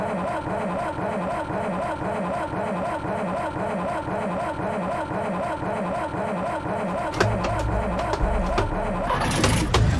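Coachbus 256 bus engine in the OMSI 2 driving simulator cranks with a steady, close mechanical churn, then catches and runs rougher and louder toward the end.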